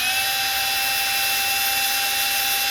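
A power drill spins a stuck screw out of an HP Envy 17t-u100 notebook, giving a steady high-pitched whine with a few sustained tones and no breaks.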